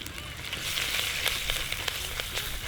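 Asafoetida added to hot oil for a Gujarati kadhi makes a close, crackling sizzle with scattered sharp pops over steady frying hiss, and faint voice-like sounds now and then.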